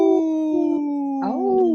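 A comedian on a radio show imitates a wolf howl with one long, sustained wail that bends upward near the end. The voice is close and loud, with no other talk.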